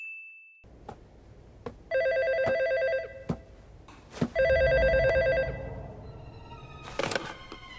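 A telephone rings at night in the horror film Ghost Stories, sounding in two long electronic trill bursts. Sharp thuds and knocks fall between and after the rings, with no talk.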